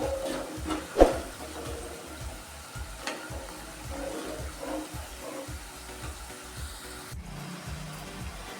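Nimki dough pieces deep-frying in hot oil, a constant soft sizzle and bubbling with occasional clinks from a utensil, close and even throughout.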